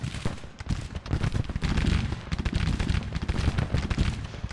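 Dense gunfire mixed with artillery booms fills a Civil War battle in a video game, a steady roar of musket volleys and heavy thuds with no one talking.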